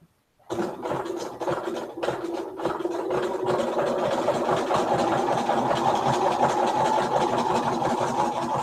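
A sewing machine runs a zigzag stitch, starting after a brief silence and then whirring steadily and closely, with a faint repeating needle rhythm and no talk.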